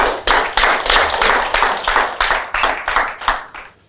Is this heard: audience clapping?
yes